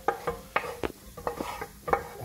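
Onions stirred in a saucepan, a series of short scraping and tapping strokes in an uneven rhythm with a light sizzle underneath, close and moderately loud.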